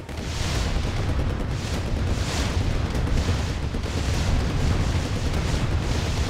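A bridge blown up in Command & Conquer Remastered, a sustained, loud rumbling blast that fills the whole stretch with dense low-end roar and no clear pauses, heard without speech.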